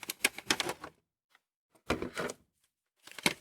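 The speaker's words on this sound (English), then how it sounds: "to open the box you just lift open the side flap. And then lift open the front cover." Cardboard flaps on an S.H.Figuarts Darth Vader 1/12 scale figure box are lifted open, giving three close bursts of crisp rustling and scraping separated by short silences.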